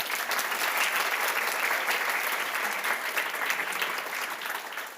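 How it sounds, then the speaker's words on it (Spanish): Audience applause at a talk on 3D animation, a dense, steady burst of clapping from a crowd that holds at a fairly even level for about five seconds with no voices over it. "Un aplauso para Pancho."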